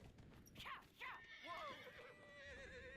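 A horse in the video game Skyrim whinnies twice in quick succession, then gives a longer drawn-out neigh, with soft hoof sounds underneath, fairly close and moderately loud.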